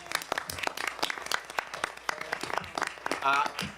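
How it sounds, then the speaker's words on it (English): Audience at a school board of education meeting applauds a recent graduate, scattered clapping under and between voices talking, moderately loud throughout. "So can we give Chanel a round of applause?"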